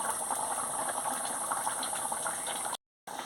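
A rohu fish cumin curry boiling in a pot gives a steady, close bubbling and simmering hiss that runs unbroken. It stops briefly to silence near the end, then picks up again.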